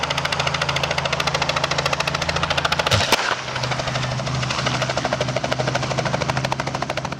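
A helicopter flies near power lines, its rotor producing a loud, rapid, continuous chop with a brief disruption about midway before the steady beat resumes.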